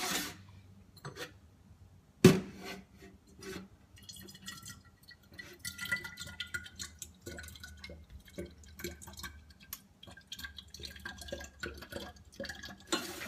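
Kombucha with pineapple runs quietly into a glass bottle during bottling, a faint trickle and dripping with small clinks, one sharper knock early on, soft and close throughout.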